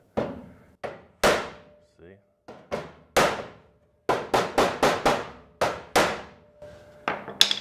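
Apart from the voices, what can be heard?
hammer striking metal body panel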